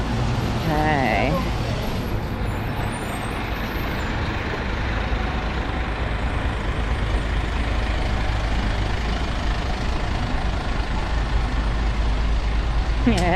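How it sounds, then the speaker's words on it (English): A truck rumbles along a street in South Yarra, Melbourne, with a hiss of air brakes and steady loud engine and traffic noise throughout, heard from the pavement. "It's still a truck."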